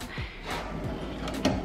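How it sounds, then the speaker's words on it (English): A bathroom drawer slides open with a short scraping rub and a few soft knocks, close and fairly quiet. "This is the drawer where it is just nothing but sprays"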